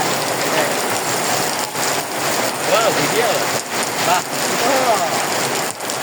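Steady heavy rain pouring down at an exam hall gate, a loud, dense hiss of drops hitting surfaces close by, continuous throughout with faint voices underneath.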